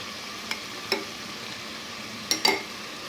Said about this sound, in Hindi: अब इस गोश्त को मैं फिर एक दफ़ा अच्छी तरह भून लूँगी